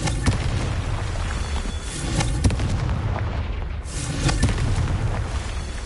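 Confringo blasting spells from Hogwarts Legacy go off repeatedly, each a loud booming explosion with crackling bursts, clustered one after another with no talk over them.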